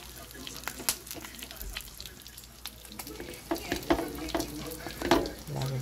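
Rice with hen and tomato is stirred in a pot, a soft sizzle running under the scrapes and clacks of the spoon, which grow busier and louder toward the end.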